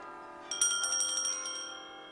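High, ringing bell tones begin about halfway in and sustain with slight pulses, moderately loud over a steady low hum, no voices.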